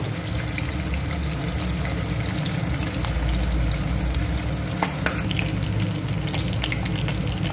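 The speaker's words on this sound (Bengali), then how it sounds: "সব মাছগুলোকে ভেজে নেব" Pieces of hilsa fish fry in hot oil for a curry with potato and eggplant, giving a steady, loud, continuous sizzle with a few faint clicks and no talking.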